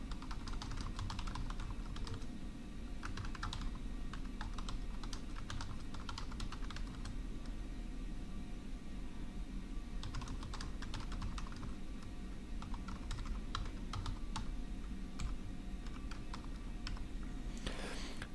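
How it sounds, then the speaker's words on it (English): Steady, continuous typing on a computer keyboard as assignment instructions are entered in Canvas, with dense clustered keystrokes and short pauses between bursts, heard close and alone with no talking. "So I'll just type up some quick instructions."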